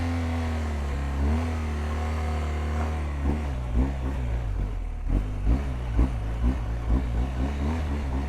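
A 250 kg adventure motorcycle's engine revs on the throttle, a steady drone that breaks into repeated rising bursts as the rider opens it up, close and loud.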